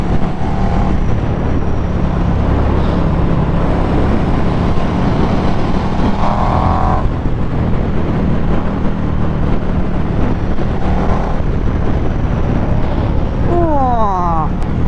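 A KTM Superduke 1290R motorcycle on a test ride roars continuously over heavy wind rush, with a short rising rev and gear-change sweeps near the end.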